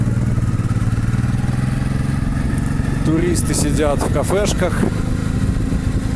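A Honda motorcycle with a sidecar drones at a steady running pace throughout, loud and close, while someone talks over the engine noise.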